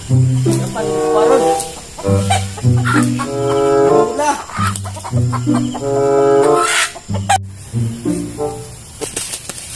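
Chickens cluck loudly and close by, with a rooster crowing in repeated bursts, while people talk and laugh in the background.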